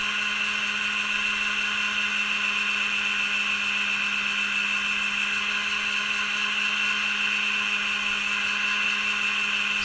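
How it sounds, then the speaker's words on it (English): Power sander smoothing high spots on a DIY chainsaw attachment, a continuous close high-pitched motor whine with a steady hum, unchanging and alone for the whole stretch. "once I got those high spots sanded off"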